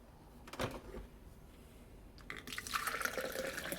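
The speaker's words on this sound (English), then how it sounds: "Listen to that pour." Coffee splashes and streams into a cup up close, a steady pouring rush building after a few brief clatters, with no voices.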